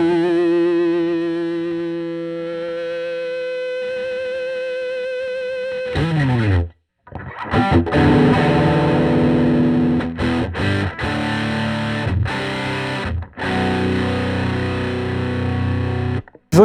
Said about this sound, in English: Just listen to that, the articulation that comes through from that amp